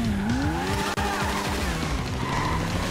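A motorbike in GTA V roars along with a rising and falling engine whine, tires squealing and skidding under a dense, loud wash of game vehicle noise with no talk.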